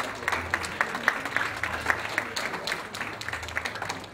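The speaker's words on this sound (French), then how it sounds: "Je vous demande d'applaudir." A crowd applauds at a Christmas tree party with a mix of rhythmic and scattered hand claps. The applause is moderately loud and continuous, with some claps standing out in a steady beat.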